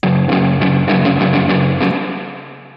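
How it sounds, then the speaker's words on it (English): A guitar signal through the impulse-based spring-style reverb of a BBE Stomp Board plugin, with a run of bright plucked notes ringing together and then a long reverb tail fading out on its own. "I want to show you what this reverb sounds like really quickly because this reverb sounds so cool."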